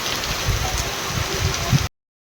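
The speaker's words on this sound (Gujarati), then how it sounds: "પવન ને વરસાદ બે એટલું છે." Steady torrential rain pouring down with a broad rushing hiss, gusts of strong wind swelling through it, constant and fairly loud, ending abruptly.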